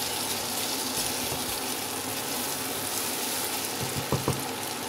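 Potatoes fry in a pan for a Pakistani mutton kofta curry as water is poured in, making a steady loud sizzle and hiss with a few soft clinks of stirring near the end.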